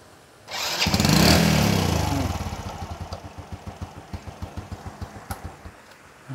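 A 2004 Honda Wave small motorbike engine kicks into life, revs up loudly for a couple of seconds, then settles into a steady, evenly pulsing idle close by.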